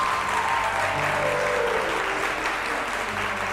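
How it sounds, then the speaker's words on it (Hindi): Studio audience applause on a television show about fashion and makeup, a steady, dense round of clapping from many people that holds at even loudness throughout, with faint voices underneath. "आपकी तालियां बताएंगे हमें कैसा लगा आपको"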